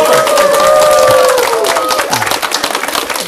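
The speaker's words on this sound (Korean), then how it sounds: "그럼 여러분은 그 핑계로 소리 지르고 박수 치시면 됩니다." An audience at a health lecture bursts into sustained shouting and clapping, a dense, loud wash of crowd noise with a drawn-out vocal whoop running over it.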